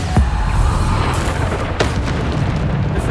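Bombarda explosion spells going off in Hogwarts Legacy, with deep booming blasts, one sharp hit near the start and another strong burst later, over a loud rumbling game background.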